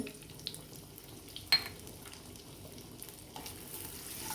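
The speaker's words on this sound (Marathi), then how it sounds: "असं थोडंसं फ्राय करणार आहोत" Green chillies, garlic and ginger fry in a pan for Schezwan fried rice, giving a soft, steady sizzle with a few brief clatters of stirring, heard quietly and alone.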